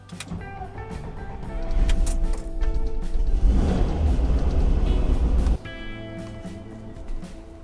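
An air-cooled rear-engine car cranks and starts, its engine rumbling loudly for a few seconds before cutting off, followed by quieter mechanical sounds.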